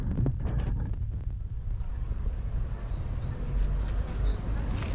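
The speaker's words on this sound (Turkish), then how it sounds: "Teknemiz bu, 10 metrelik bir tekne." A 10-metre tour boat idles in harbour at Ayvalık with a low engine rumble while wind buffets the microphone; faint voices can be heard in the background.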